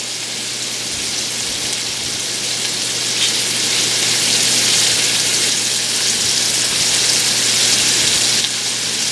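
Cabbage, noodles and smoked sausage fry in a pan with a loud, steady hiss and crackle that builds slightly and holds throughout, over a low constant hum.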